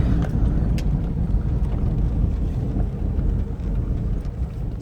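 Four-wheeler all-terrain vehicle rolling along outdoors, a continuous close low engine rumble mixed with wind buffeting the microphone, no talking.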